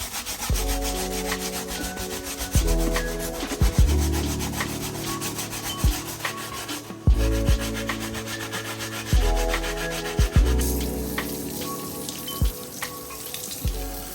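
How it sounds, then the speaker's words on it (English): A brass bristle brush with cleaning solution scrubs the rubber outsole of an ASICS GEL-1130 shoe in repeated rough strokes, each rasping pass starting with a sharp scrape, close up and alone. "for the outsole portion of the shoe, I'm going to be using a brass bristle brush with the same solution"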